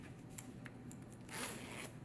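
A zipper runs closed along a small sewn double pouch holding threads, a few short ticking pulls followed by one longer, brighter zip, close and quiet.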